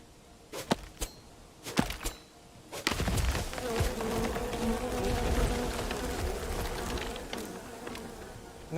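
Bees in the survival building game Len's Island drone in a steady buzz that sets in after a few sharp clicks and chops, continuing loudly with no voices over it.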